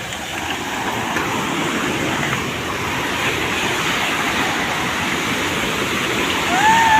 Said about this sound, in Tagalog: Dadaan po kami dito sa waterfall na kasing ganda ng aking puso.